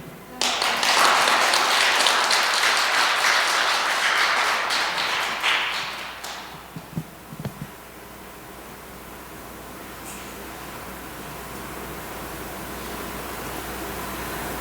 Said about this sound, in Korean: 박수 한 번 더.